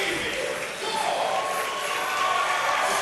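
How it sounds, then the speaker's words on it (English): A college wrestling arena crowd at Iowa State versus Cleveland State roars and cheers for a hometown favorite, a broad, steady wash of crowd noise that swells slightly toward the end. "Listen to this crowd as they invite back in the hometown favorite."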